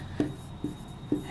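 Three short, faint strokes of writing on a board during a thermodynamics lecture, spaced about half a second apart in a quiet room.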